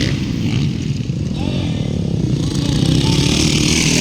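Motorcycles roar loudly and continuously during an expert-category semi-final race in Libungan, their engines droning and revving close by while a commentator talks excitedly over them.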